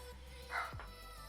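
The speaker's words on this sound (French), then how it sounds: "j'ai une chienne qui aboie pour rien du tout" A female dog gives a single short bark close by, a brief sharp yelp dropping in pitch, against a quiet indoor background.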